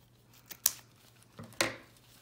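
Two quick snips of scissors cutting ribbon on an Easter wreath, each a crisp close cut, in a quiet room.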